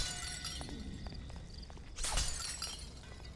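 Glass shattering in the video game BloodRayne 2, a sudden loud crash with a bright spray of breaking shards that rings out over a low background rumble and scattered faint clicks.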